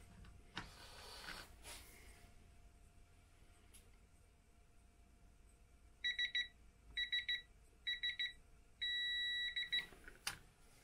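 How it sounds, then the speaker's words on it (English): An electronic beep from a screw-tightening tool during LiFePO4 battery preparation: several short clusters of high beeps, then one steady continuous tone near the end, clear against a quiet room hum. "If you hear a steady beep, you're at the right amount of torsion."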